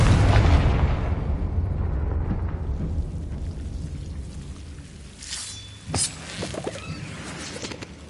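A Confringo explosive spell in Hogwarts Legacy lands with a deep booming blast that rumbles and slowly decays, followed later by a couple of sharper crackling impacts and faint chiming game effects.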